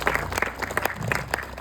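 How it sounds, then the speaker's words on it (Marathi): Audience applause at a felicitation event, a dense crowd clapping steadily at close range for the whole stretch without any talk over it. "जोरात आपण टाळ्या वाजवू त्यांच्यासाठी."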